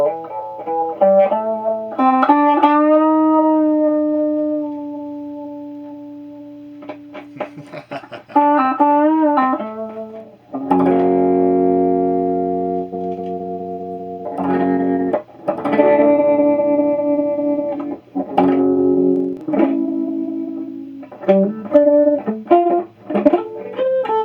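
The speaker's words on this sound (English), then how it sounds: "get the raw sound of that wah-wah here" A 1982 Cort Effector electric guitar runs through its wah-wah effect, with sustained notes and choppy strummed chords sweeping in tone. The playing is close and loud, with short pauses between phrases.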